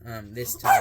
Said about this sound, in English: Excuse my dog again.